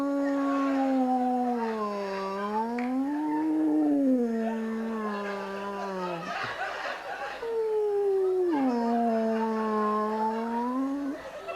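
A comedian's voice imitating humpback whale song during a stand-up set: long, wavering moans that slide up and down in pitch, broken by a brief rough interruption, then resuming. The moans are fairly loud against a quiet room.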